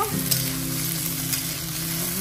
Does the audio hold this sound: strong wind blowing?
no